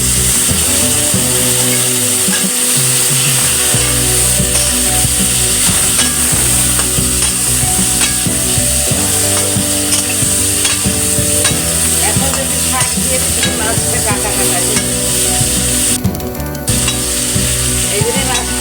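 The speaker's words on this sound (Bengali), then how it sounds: "রসুনের পেস্ট দিলাম" Garlic paste sizzling loudly and steadily in hot oil while a spoon stirs and scrapes, a constant close frying hiss that runs the whole time without talk, in a hilsa fish head and taro greens dish.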